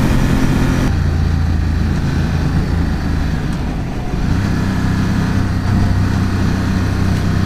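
Ducati XDiavel motorcycle engine running during a ride in Arizona, a loud, steady low rumble with a shift in pitch partway through as revs change, accompanied by constant wind noise and no talk.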